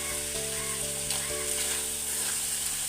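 Crab pieces fry in a pan for a steady, loud sizzle that runs throughout, with a constant hiss and occasional soft stirring scrapes and clinks, and no voices.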